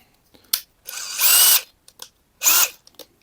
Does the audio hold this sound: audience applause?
no